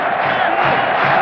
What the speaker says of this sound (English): French crowd now getting heavily in support of their players